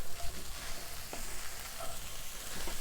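Beans are stirred into browned ground meat in a pan with the heat off, a soft low crackle with a couple of faint spoon scrapes.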